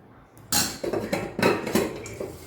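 A potato being served onto a plate beside Bihari-style mutton, with a few loud, close clatters and scrapes of a spoon against dishes, each knock ringing briefly in a short burst.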